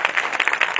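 A short burst of crowd clapping at a church service, steady and fairly loud, with many hands beating together in a dense patter.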